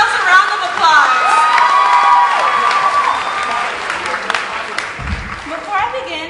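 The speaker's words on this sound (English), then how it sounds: "Class of 2023, give yourselves a round of applause." A graduation ceremony audience for a high school's first graduating class bursts into loud applause and cheering, with whoops and shouting voices rising over dense clapping before it thins out.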